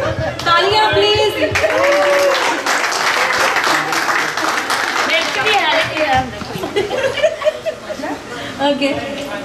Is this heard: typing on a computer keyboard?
no